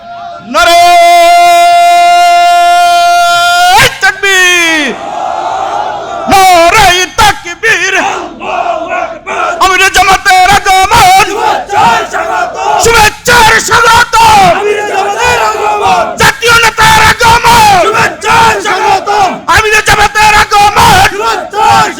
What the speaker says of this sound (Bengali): নারায় তাকবীর সবাই ধরেন